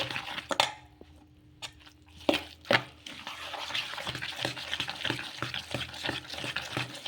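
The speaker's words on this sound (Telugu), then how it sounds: "ఇప్పుడు ఒకసారి మొత్తం బాగా కలిపేసుకుందాము" A thick semolina and yogurt batter is stirred in a bowl, with repeated wet squelching strokes and a few sharper clinks of a spoon against the side.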